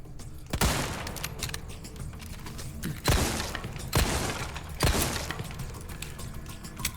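Gunshots at a shooting range in the video game Resident Evil 4, four sharp loud reports spaced irregularly, each followed by a brief ringing decay over a dull background.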